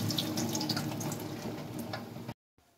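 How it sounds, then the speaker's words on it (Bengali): Water pouring off boiled jackfruit into a sink, a close splashing stream lasting about two seconds before it cuts off abruptly. "জলটা বের করে নেব।"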